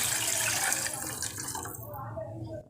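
Water from boiling vegetables is poured into a pan for a homemade soup. A steady, splashing rush runs close and loud, then thins and trails off at the end.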